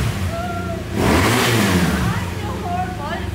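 A motorcycle engine on a trailer is started and revved, a loud close roar swelling for about two seconds before settling, with people talking over it.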